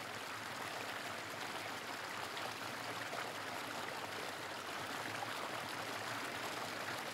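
A stream, a tributary of the River Severn near Newtown, flows steadily throughout, a constant broadband rush of water with no pauses, moderately close and alone without voices.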